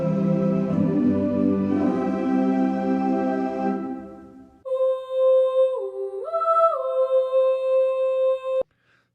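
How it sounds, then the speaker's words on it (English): An epic choir sample from Cinesamples' Musio library sings sustained, dense chords for about four seconds, then a thinner, higher sustained tone steps between pitches before cutting off abruptly. "We have epic choirs"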